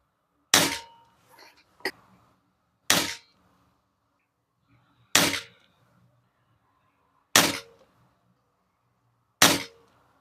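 Air rifle fired five times at a target, each pellet shot a sharp, loud crack spaced about two seconds apart, with a faint metallic clink and small handling noises between the first shots; no voices.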